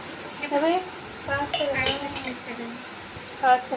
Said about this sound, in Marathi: 60-60 रुपये एक नंबर क्वालिटीचे भांडे आहेत मित्रांनो